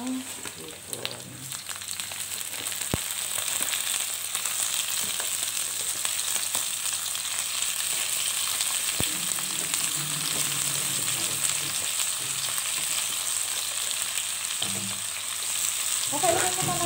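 Shrimp fry in a pan for miswa soup, giving a steady, loud, continuous sizzle with occasional stirring knocks, while a voice speaks faintly underneath.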